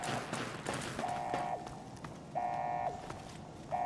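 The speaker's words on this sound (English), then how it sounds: "Fire alarm." A fire alarm in the video game Fallout sounds in several steady, buzzing tones of about a second each, separated by gaps, fairly faint over low game noise.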